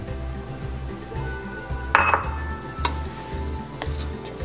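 A utensil gently mixes sugar into flour and cut-in butter in a bowl for sourdough biscuits, giving a soft steady rustle with one sharp clink near the middle and a few lighter taps afterward.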